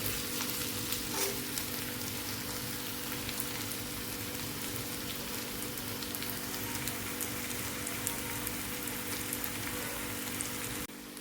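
Sliced bitter gourd cooks in a pan with a dense, steady sizzle and crackle, like rain on a surface, continuous and close throughout.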